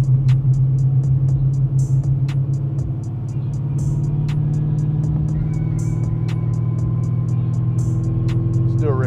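An LSX 454 engine in an Impala on a dyno in second gear, a steady deep rumbling drone held at constant pitch with a slight rise, accompanied by regular ticking clicks.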